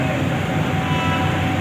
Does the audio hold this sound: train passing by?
yes